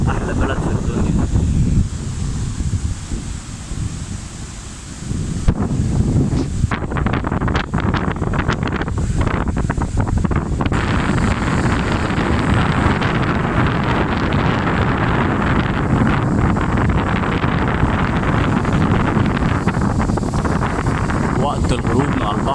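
Sea waves and strong wind along the Alexandria coast at sunset make a constant loud roar with heavy wind buffeting the microphone, steady throughout with only a brief dip early on.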